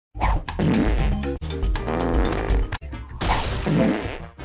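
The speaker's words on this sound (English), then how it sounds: "Whenever Crash jumps, there's about a 1 in 6 chance that he will fart." Crash Bandicoot farts as he jumps in a video game, a series of loud, blubbery cartoon fart noises filling the clip, mixed with game music and thumps, with brief gaps between bursts.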